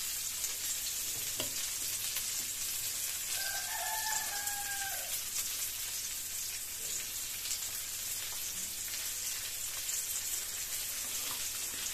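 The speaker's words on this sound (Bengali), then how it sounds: "আমরা এখানটা পেঁয়াজ দিয়ে দিলাম, এখন জাস্ট সেটাকে একটু ফ্রাই করে নেবো খুব সুন্দরভাবে" Sliced onion fries in a pan for an onion bharta, giving a continuous, even sizzle throughout. A rooster crows once briefly in the background.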